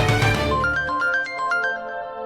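A mobile phone ringtone plays a bright repeating electronic melody, clear and fairly loud in an indoor setting, with no talking over it.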